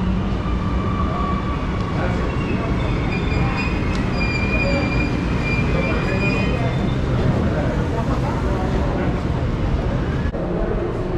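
A metro train in Colombia roars steadily with loud rolling rumble and faint high wheel squeal throughout, heard from inside the moving car.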